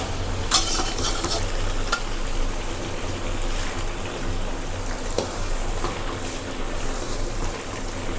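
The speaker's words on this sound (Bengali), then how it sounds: "মাঝে মধ্যে যখনই মশলাটা ধরে যাচ্ছে তখন আমি একটু সামান্য গরম জল দিয়ে ওটা কষতে থাকছি" Mutton masala sizzles in a pan, stir-fried with splashes of hot water, with steady close frying hiss and repeated scraping of the stirring spoon throughout.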